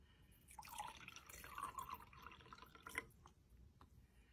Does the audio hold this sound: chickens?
no